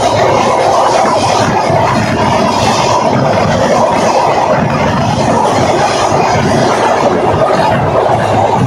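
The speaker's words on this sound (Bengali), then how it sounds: "আমরা নড়াইল রেলওয়ে স্টেশন থেকে রূপসী বাংলা এক্সপ্রেস করে আমরা ঢাকার উদ্দেশ্যে রওনা দিই।" Loud, continuous rumble of the Rupasi Bangla Express from Narail station toward Dhaka, heard from on board, with rhythmic rail clatter and faint wheel squeal running throughout.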